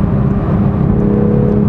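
A 2021 Toyota Supra 3.0 with its BMW straight-six engine gives a steady, loud, close-up drone that holds an even level throughout, with no distinct pops or crackles standing out.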